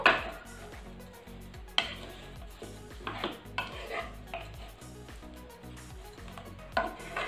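Dates pressed and stirred together with roasted dry fruits in a pan, with repeated scraping and clinking of a utensil against the metal in an uneven rhythm, close up and with no talking.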